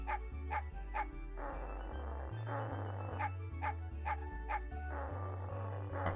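A dog barks repeatedly in the Mega Man Legends video game, a string of short yips and bow-wows over a bouncy game music track with a looping bass line.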